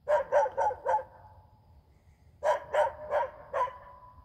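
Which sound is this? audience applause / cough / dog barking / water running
dog barking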